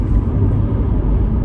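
An Audi car passing by on a road, a loud, steady low rumble throughout with no voices.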